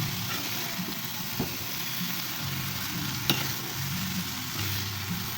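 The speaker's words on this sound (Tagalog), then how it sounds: "Haluin natin siya." Mixed vegetables sautéing in an overfull wok for lumpiang gulay, a soft constant sizzle under a low steady hum, with occasional light clinks of the stirring utensil, no talking.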